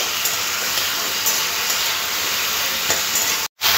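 Tomato and vegetables fry together in a pan for a ridge gourd, potato and rohu fish curry, giving a loud, constant sizzling hiss with faint stirring clicks and a brief cut of silence near the end.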